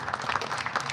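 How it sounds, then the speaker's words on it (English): Applause from an audience at a mayor's community night out, steady clapping across the whole second with no voices over it. "Can you give them a big round of applause, everybody, please?"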